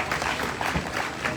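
Audience applause at a Jain religious discourse gathering in Satna, a steady wash of many hands clapping with no pauses, moderately loud throughout.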